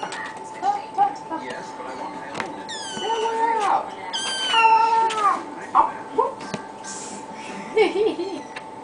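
A kitten meows repeatedly from inside a box, its cries rising and falling in short bursts and drawn-out wails, close and fairly loud, with a person talking softly over it.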